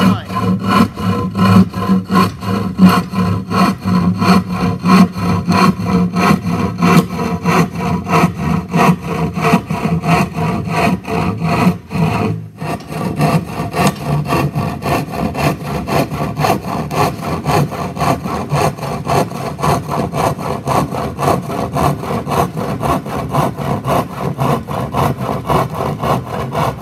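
A hand rip saw cuts through wood in steady back-and-forth strokes, a close, even rasping rhythm that pauses briefly midway before resuming at the same pace.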